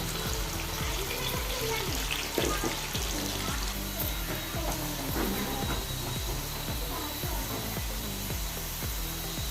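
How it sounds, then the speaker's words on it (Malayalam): Corn kernels deep-frying in hot oil in a kadai, a steady dense sizzle with bubbling crackle throughout, close and continuous. "ഇനി ബാക്കിയുള്ളതും കൂടി നമുക്ക് എണ്ണയിലിട്ട് കൊടുക്കാം"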